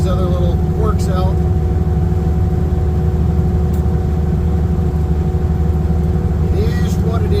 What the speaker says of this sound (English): But it's running cool. The motor's actually running really strong.